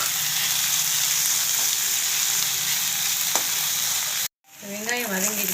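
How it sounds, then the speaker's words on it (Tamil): Onions sautéing in a pan for Tamil beetroot chops, a loud continuous close-up sizzle that cuts off abruptly for a moment near the end, then returns at a lower level with faint background sounds. "வெங்காயம் வதங்கணும்."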